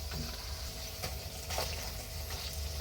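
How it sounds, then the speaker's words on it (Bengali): Luchi frying in hot oil, a steady low sizzle and bubbling with a few brief crackles, close and fairly quiet, with no talking. "দেখো কত সুন্দর ভাজা হচ্ছে"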